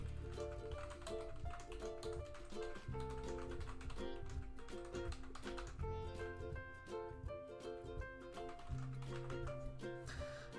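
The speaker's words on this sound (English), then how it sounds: "If you can hear clicking and stuff, that's because I'm marking the quiz as we go" Rapid clicking and tapping on a computer keyboard and mouse while a quiz is marked, steady light taps running through a dense, continuous tonal background.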